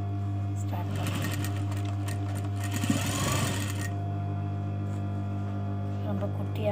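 A sewing machine runs close by, top stitching a folded hem on a crop top with a steady mechanical whir over a constant low hum.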